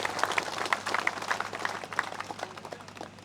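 A crowd welcoming a speaker at a political gathering breaks into applause, dense and energetic clapping that gradually thins out and grows fainter.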